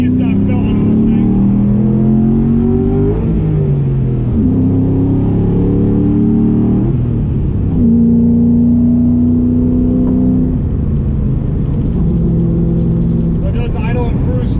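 A 2005 Ford Mustang GT CSR built by Kenny Brown rounds a roundabout, its V8 droning loud and close from inside the cabin, pitch rising and falling with shifts and throttle changes.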